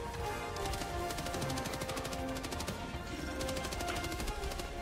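Rapid automatic weapon fire in the video game Helldivers 2, a dense steady stream of shots running through the whole stretch over a busy game soundscape, with no talk.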